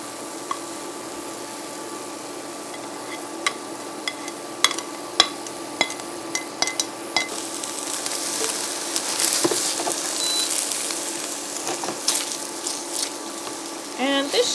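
Tofu cooking in its marinade in a pan, a soft continuous sizzle with occasional light clicks and taps from stirring or flipping, growing a little more vigorous partway through.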